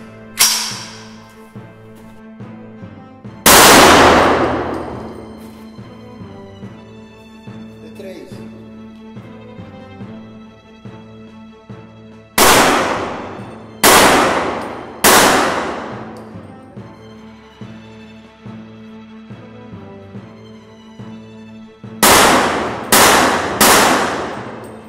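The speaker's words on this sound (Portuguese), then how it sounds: "E a gente vai fazer agora os 10 tiros para poder entregar." Sharp, loud gunshots from a CT 40 firearm on test firing, spaced out singly and then in a quick cluster of three, each cracking close and decaying with reverberation over a steady music background.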